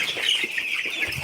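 Broiler chicks about two weeks old clucking and cheeping steadily in a poultry house, a continuous high chorus of many birds with soft low thumps underneath and no speech.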